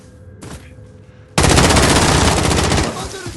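Video game gunfire erupts as a loud, close, sustained automatic burst of rapid shots after an earlier single sharp shot, continuing for about a second and a half before easing off.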